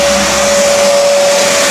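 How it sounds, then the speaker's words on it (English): A home vacuum cleaner runs at a DIY project, a loud, steady, close motor whine with a constant high tone and broad airy rush and no break. "Oh, I didn't turn on the switch on the vacuum."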